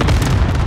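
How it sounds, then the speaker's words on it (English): A cruise missile blast in a military shooter video game, a loud, dense, rumbling explosion filling the whole short moment up close, with no speech. "Allied cruise missile"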